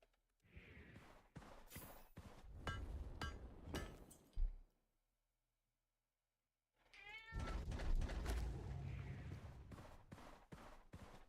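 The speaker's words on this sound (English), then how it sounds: "Don't come in here and start meowing." A house cat meows several times in close, clear bursts, with quiet pauses and a silent gap between calls and softer clinking game sounds around them.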